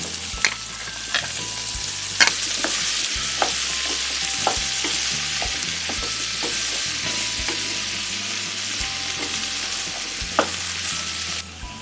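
Pieces of raw banana fry in a pan for a vegetable bhaji, giving a steady close sizzle with regular clicks and scrapes of a spatula stirring, and no one speaks.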